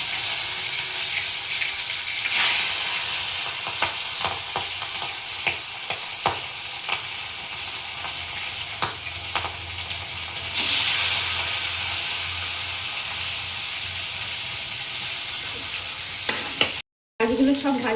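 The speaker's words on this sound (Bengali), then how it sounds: "এখন আমি মাছটাকে লাল লাল করে ভেজে নেব" Pieces of rohu fish fry in hot oil in a pan with a steady, loud sizzle and hiss, broken by occasional scraping stirs and spatter pops, with no talking.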